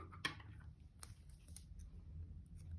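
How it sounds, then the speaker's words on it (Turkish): Scissors cutting crochet yarn while making a daisy hair clip, a few short, quiet snips spaced apart over a low background hum. "İpimi kestim."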